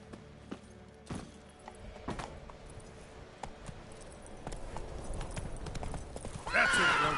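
Geralt's horse Roach in The Witcher 3 gallops with a steady, rhythmic clip-clop of hooves, close and clear over ambient game sound, then a loud whinny rings out near the end.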